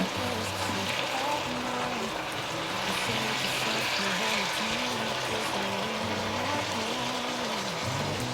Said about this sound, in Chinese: 這時候放入豆腐、杏鮑菇也一起放進來，翻炒一下。